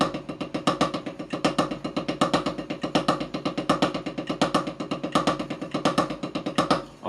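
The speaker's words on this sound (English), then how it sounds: "Just the double paradiddle part." Snare drum plays double paradiddles with accents on the second and third notes, a fast, steady run of close, crisp strokes where the louder accented hits stand out in a repeating pattern.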